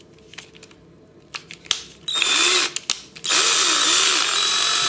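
A cordless drill fitted with a wine whip degassing attachment whirs in two loud sustained bursts, with its pitch wavering as it spins, after a few short clicks and trigger taps.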